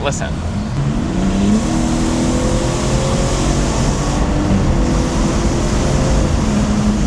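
A BMW inline-six engine with a turbocharger and stock mufflers pulls hard and steady with a rising turbo whine as it accelerates, loud and close throughout.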